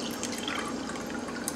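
Water poured from a container into a glass during a drinking-water filtration demonstration, a steady, close liquid splashing and trickling wash that continues evenly throughout with no voices.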